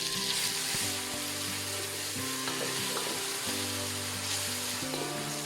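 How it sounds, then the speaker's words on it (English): Onions frying in oil with ginger and garlic paste, giving a loud, steady, continuous sizzle close up, with no pauses or voices. "I'm going to fry together until it's nicely brown."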